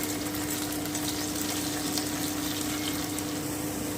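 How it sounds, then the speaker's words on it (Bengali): Pieces of eggplant frying in a pan with bottle gourd leaves, producing an even, steady sizzling hiss with faint crackles and a low constant hum behind it, close and unbroken, no speech. "এবারে আমি বেগুনটা দিয়ে দিচ্ছি আমি আরও দু মিনিট ভেজে নিচ্ছি"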